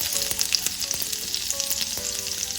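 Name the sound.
cumin, green chili and crushed garlic frying in hot oil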